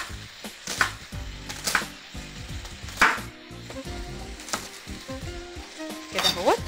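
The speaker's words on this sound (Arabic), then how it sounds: "احنا هنحمر البصل وعايزين نشوفه بعد كده في الوصفه" Diced onions frying in a pan, a steady sizzle throughout with intermittent clinks and scrapes of stirring utensils, close and moderately loud.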